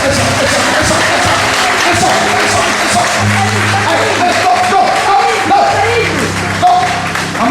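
A church congregation cheers and acclaims Jesus, with a loud continuous crowd roar, clapping and shouting, while a voice talks over the noise throughout.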